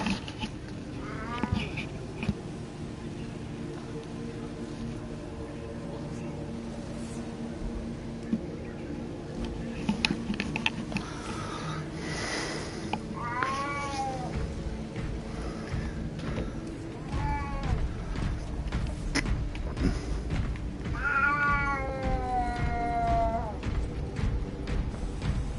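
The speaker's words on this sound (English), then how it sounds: "Now he's going meow." A pet cat lets out a few drawn-out meows at irregular intervals, close by in a quiet indoor room, the calls growing longer and louder toward the end.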